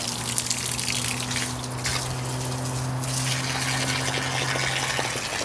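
Hot water from a solar water heater gushes and splashes steadily and loudly, with a constant low pump-like hum beneath, close by and with no talking.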